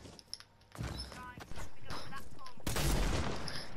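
Video game gunfire crackles in a dense burst of rapid shots after a quieter opening, then swells into a loud sustained barrage near the end.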